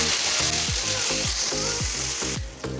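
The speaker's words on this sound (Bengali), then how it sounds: "এখন মশলাটা আমি কষিয়ে নেব ভালো করে" A spice paste with coriander powder and salt fries in a pan for a fish curry, giving a loud, constant sizzle broken by repeated swishing strokes as it is stirred, close and with no voices.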